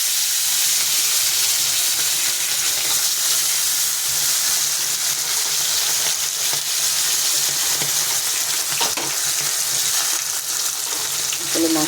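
A large fish frying in hot mustard oil in a kadai: a loud, continuous close sizzle and hiss of spitting oil that stays steady throughout, with faint crackles and no talk.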